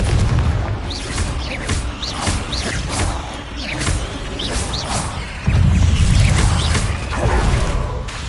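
Confringo and Bombardo spells in Hogwarts Legacy go off as a rapid run of loud blasts, booms and mechanical whooshes, with a heavier low rumble swelling toward the end.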